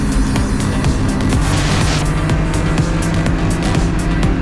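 A race car engine roars loud and steady during an SCCA race, a continuous droning drone from inside or near the car with no break, wind and mechanical noise layered over it.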